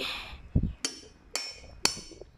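A metal rivet setter is struck with a hammer to set a rivet on a woven basket handle: four sharp, separate taps, the first duller and the next three bright and ringing, spaced about half a second apart.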